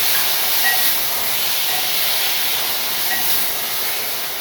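Chopped raw mango lands in hot oil seasoned with kalonji, giving a steady, close, hissing sizzle that holds evenly throughout without any talk.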